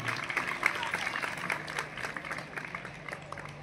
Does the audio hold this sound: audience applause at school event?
yes